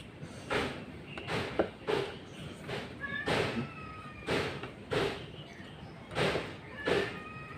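A cat meowing repeatedly, about eight or nine loud close cries spaced roughly a second apart, some drawn out and wavering, with faint background noise between them.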